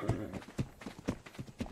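Horse hooves clop in a steady rhythm in Ark: Survival Evolved, close and moderately loud, with a faint voice underneath.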